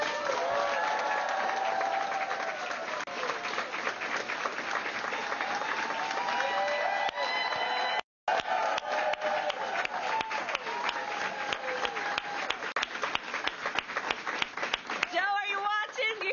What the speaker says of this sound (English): Do you hear this clapping?